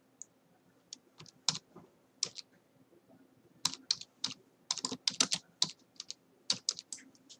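SQL commands typed on a computer keyboard, with close, crisp key clicks in irregular bursts and short pauses between runs of keystrokes.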